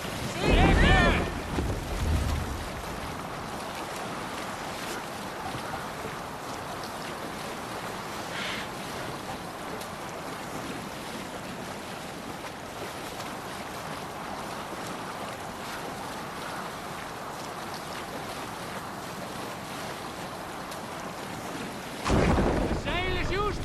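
A Viking longship sails the open sea in Assassin's Creed Valhalla, with constant rushing wind and wash of waves against the hull, and brief splashy surges at the start and near the end.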